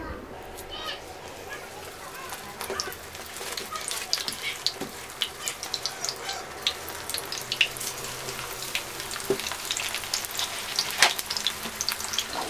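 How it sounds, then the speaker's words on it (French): Eggplant slices crackle and sizzle in hot oil, with irregular pops and spatters growing busier after a few seconds, under quiet speech. "et je passe à la friture."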